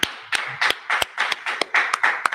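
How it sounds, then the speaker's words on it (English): A church congregation claps together in a steady, rhythmic beat, each sharp hand clap ringing out loud and close in a quick, even pulse with no voices over it. "clap it up. Clap it"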